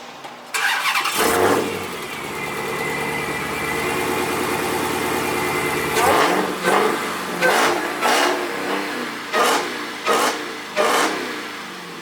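A boosted car engine fires up, settles into a loud, rough idle for several seconds, then is revved hard in a series of sharp, repeated blips close by.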